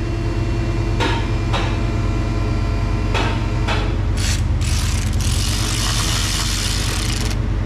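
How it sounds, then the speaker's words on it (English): Bolts being threaded onto a Ford Mustang axle during an axle repair: a few sharp metallic clicks and taps, then a longer ratcheting burst near the end. All of it sits over a constant low mechanical hum. "Bolts are going in to keep it aligned."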